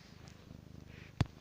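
A house cat purrs close by in a steady, low rhythmic rumble, ending with a brief louder bump or thud.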